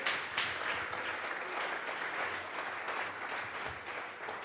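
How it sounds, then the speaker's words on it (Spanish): Church congregation clapping together during a Bible study service, a dense steady wash of applause that holds for the whole stretch with no voices standing out. "Vamos a regalarle ofrenda de palmas al Dios de la gloria"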